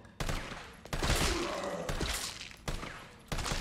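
Gunshots in Resident Evil 3 Remake crack out one at a time, about five loud close reports with short echoing tails and a steady, deliberate rhythm.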